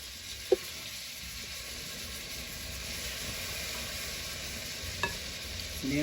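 Beef short ribs searing in a skillet, a steady low sizzle and hiss with two brief sharper pops, fairly quiet and without talk.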